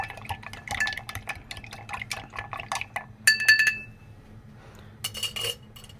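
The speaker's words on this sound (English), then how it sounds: "You take your mixing spoon, and you just stir it up." A mixing spoon clinks and swirls inside a glass while a smoky tequila old fashioned cocktail is stirred, giving light repeated chinks and liquid swishes close by, with a brief louder burst of clinking midway.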